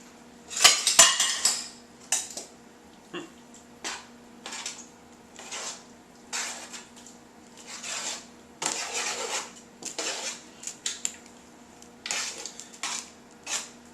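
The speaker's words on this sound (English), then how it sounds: "So what we're going to do is simply transfer this to the Dutch oven" Roasted tomato soup is scraped and spooned from a pan into a Dutch oven, with repeated metallic clinks and rasping scrapes of a utensil against cookware in irregular bursts.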